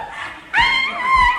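Radio comedy sound effect of long-haired sheepdogs barking: a brief, loud, whiny yelp that rises and wavers, close and clear with no talk over it.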